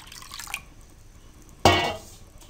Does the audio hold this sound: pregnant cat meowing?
no